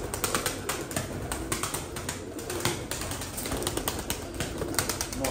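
Çorum pigeons coo softly in a continuous, busy background of birds, with occasional flutters and scratchy movements close by.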